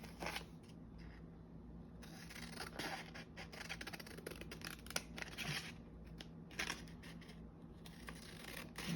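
Scissors snip out a border of paper or cheesecloth for a craft topper, a close, quiet run of quick, irregular cutting and scraping sounds with no talking.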